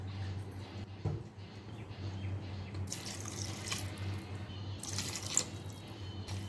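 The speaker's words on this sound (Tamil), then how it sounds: "ஸோ இப்போ ரைஸ் போட்டதுக்கப்புறம் தேவையான அளவு தண்ணி ஊற்றுறோம்." Water is poured into soaked basmati rice and masala in a cooker for biryani, a steady low splashing pour with brief brighter gushes, close and moderately quiet, with no talking.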